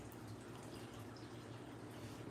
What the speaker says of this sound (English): the sound you hear in the background of water is my fish tank for my turtle.